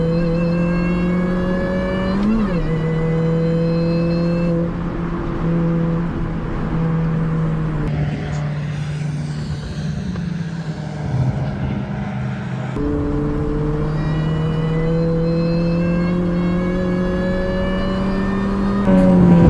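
A budget Mini Cooper race car engine drones steadily at high revs on track at Oulton Park, pitch rising and dipping through gear changes and braking, loud and close throughout.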